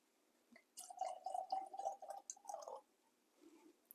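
Liquid glugs and splashes as a drink is poured from a freshly uncorked bottle, a rapid run of gurgling pulses for about two seconds followed by a faint trickle.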